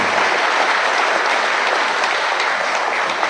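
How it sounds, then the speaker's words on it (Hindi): Loud, sustained applause from a large audience in an auditorium welcoming a speaker, dense and even clapping with no talk over it. "तालियों की गड़गड़ाहट से उनका हम लोग स्वागत करें।"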